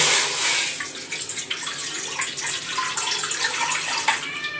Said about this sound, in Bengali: ওপর থেকে জল দিয়ে দেবো।